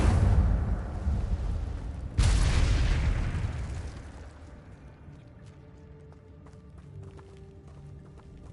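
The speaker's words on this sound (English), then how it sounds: "Incendio." Incendio fire spell cast in Hogwarts Legacy on PS5, a loud whooshing burst of flame that swells again at about two seconds, then fades into quieter ambient game sound with faint clicks.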